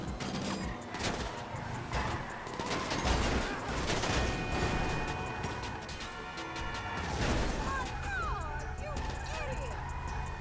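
Rapid bursts of gunfire in GTA 5 Online crackle through a busy mix of crashes and mechanical effects, with voices talking over the action.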